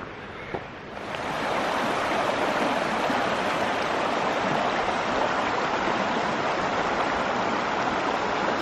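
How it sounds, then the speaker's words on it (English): Rushing water flows continuously and loudly, a steady broadband wash of a fast mountain beck leading to Scale Force waterfall in the Lake District, starting after a brief quieter moment. "if I follow the beck, it's down there, it's going to lead me to the waterfall"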